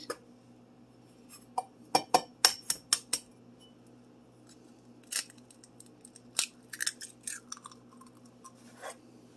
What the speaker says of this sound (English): Just crack one egg into your mug and then you're going to mix it.